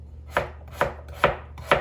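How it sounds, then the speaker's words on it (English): A knife chops potatoes into bite-sized pieces on a cutting board, four steady, evenly spaced thuds that are close and distinct, with no talking. "I'm gonna cut them in nice like bite-sized pieces"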